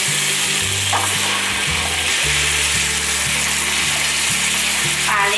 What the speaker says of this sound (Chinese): 把黑糖炒出糖色， 接下来放入莲藕